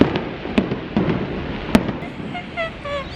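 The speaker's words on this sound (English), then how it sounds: "I found the fireworks, I found the fireworks. Look." New Year's Eve fireworks burst in a string of sharp pops and cracks, some near and loud, others distant, followed by faint crackling whistles, while excited voices talk throughout.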